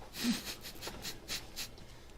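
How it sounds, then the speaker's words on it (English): Heavy, labored breathing up close from two competitors grappling in a car's back seat, a series of rough breathy exhales and inhales in an uneven rhythm. "Heavy, heavy breathing from both competitors."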